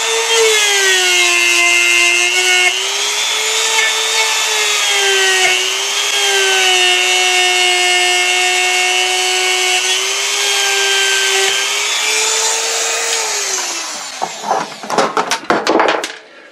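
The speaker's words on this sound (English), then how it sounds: "We'll go back to some polishing compound on a hard felt." Hard felt wheel loaded with polishing compound spins at high speed, a loud steady whine wavering slightly in pitch while buffing, then winding down into scattered knocks and rubbing.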